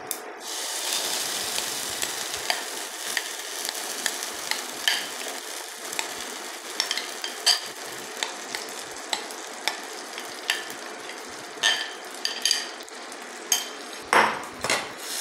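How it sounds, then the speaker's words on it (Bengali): Ground green pea paste stir-fried in oil in a wok: a soft crackling sizzle under repeated spatula scrapes and metallic clinks, growing busier and louder toward the end, with no talking. "এবারে আমি এটাকে ভালো করে নাড়বো।"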